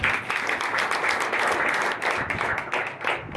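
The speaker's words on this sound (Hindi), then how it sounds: "तो इनके लिए भी जोरदार तालियां" A crowd breaks into loud, sustained applause, many hands clapping together without a pause.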